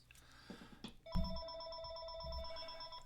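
A telephone rings with an incoming call, a steady electronic tone with several stacked pitches that starts abruptly partway through and holds loud over faint background noise, with a low thump as it begins.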